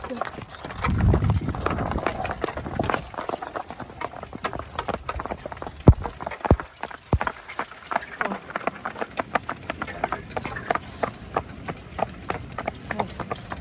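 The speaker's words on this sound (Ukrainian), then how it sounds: "Така пара кобилків у нас." A pair of mares steadily clip-clop while hauling a load of manure, their hoof beats close and rhythmic, with occasional louder knocks and a voice talking over them.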